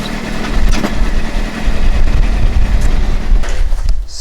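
A Honda CBR600RR motorcycle engine runs in a custom cross kart, its loud, rough mid-pitched idle rumbling steadily with a few throttle blips.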